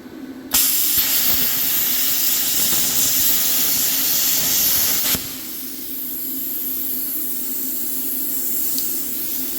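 Loud, steady hissing roar of a budget plasma cutter slicing metal, then an abrupt drop to a softer continuous rush of air blowing to cool the tip.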